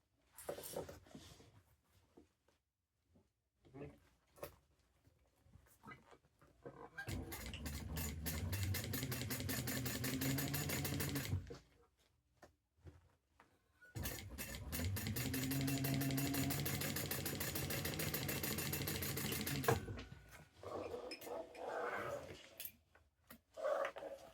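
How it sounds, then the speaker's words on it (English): A sewing machine topstitches a Dior-inspired bag, running in two long steady bursts of rapid mechanical whirring, each several seconds, with quieter handling clicks and rustles between and around them, close by. "I'm going to top stitch."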